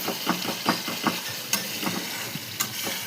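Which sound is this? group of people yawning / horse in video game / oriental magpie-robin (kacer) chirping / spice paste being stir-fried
spice paste being stir-fried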